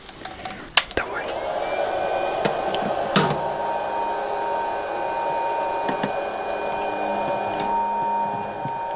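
An old, rusty electric fan on an abandoned ocean liner hums weakly, lacking the power to spin properly. It gives a steady, faint tonal drone throughout, broken by a few sharp clicks and knocks nearby.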